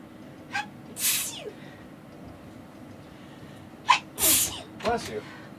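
Three sneezes from a person with allergies, a short one near the start, then two sharp bursts close together near the end, each loud and close with a quick breathy onset over a low steady background hum.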